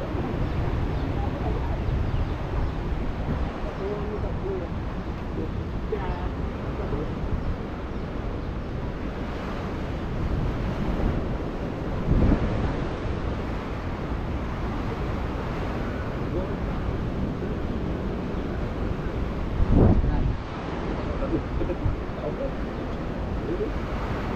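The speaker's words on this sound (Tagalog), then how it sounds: "Ang hangin no." Strong wind by the sea roars steadily across the microphone with a broad rumble, surf-like wash underneath and a couple of louder gusts.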